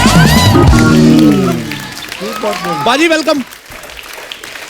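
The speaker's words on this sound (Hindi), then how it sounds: "एक बार जोरदार ताली अक्षय बाजी के लिए।" A studio audience on a Hindi comedy talk show applauds to welcome Akshay Kumar, a swelling wash of clapping that rises under a host's loud spoken greeting and carries on after the talking eases.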